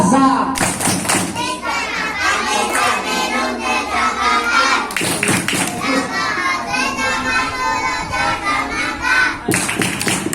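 Children chant a rhythmic fasting clap rhyme (tepuk puasa) together, sharp hand claps and thumps marking the beat under their loud group voices, with brief pauses between rounds.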